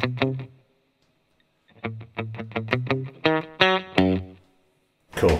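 Electric guitar with a funky clean tone played through a Positive Grid Spark amp, with tone and volume knobs turned down slightly for a darker, less snappy sound. Short muted chord stabs come in a rhythmic burst after a pause, clear and close.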